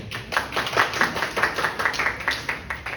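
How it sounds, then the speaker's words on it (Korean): A middle-school church congregation claps to welcome the next part of a Sunday worship service: steady, evenly spaced hand claps from a group, fairly close and clear, with little talk. "박수로 환영해 주세요."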